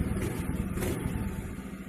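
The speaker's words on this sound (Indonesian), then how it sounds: "bunyinya di bagian CVT ya. Jadi kalau digas ketak gitu" The CVT of a scooter is revved, giving a steady engine drone with faint, irregular knocking clicks beneath, recorded close and at moderate level.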